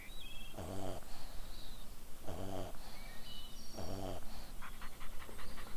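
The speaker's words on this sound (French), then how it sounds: "c'est les ronflements." Animated dog avatar snoring while lying on its side, three slow, evenly spaced rasping snore breaths with short chirpy tones in between and a faint rattle at the end.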